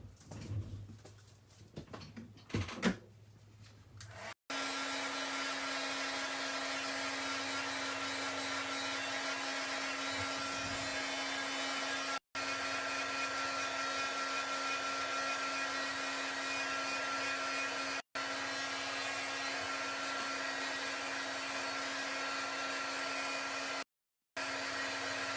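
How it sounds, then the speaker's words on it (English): A heat gun blows steadily for a long stretch while drying a sepia watercolor card, a loud continuous whirring hum with a few abrupt brief cutoffs and no talking. "let me just give that one more quick shot with my heat gun to dry"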